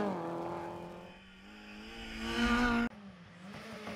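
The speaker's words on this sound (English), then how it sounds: "The sight and sound of the Opel Manta was one to behold." An Opel Manta rally car competing at the 2019 Killarney Historic Rally: a loud, rising engine roar with strong harmonics as it revs hard, dips briefly, then climbs again before a sharp cut and a steadier drone.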